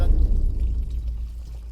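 Water pours heavily into a vessel until it nears the brim, a close, low gurgling rush that gradually softens, with a voice speaking over it.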